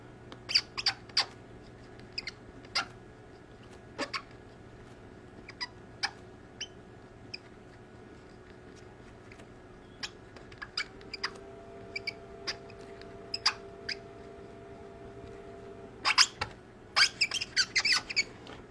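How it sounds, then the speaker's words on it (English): A paint pen squeaks in short, sharp bursts while signing an autograph at a Star Wars fan meet, scattered over a steady low hum and clustering more densely toward the end. "these paint pens really squeak"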